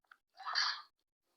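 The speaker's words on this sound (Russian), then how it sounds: "Ёбы, он чихает." A single sharp sneeze bursts out close to the mic after a faint brief click, then silence follows.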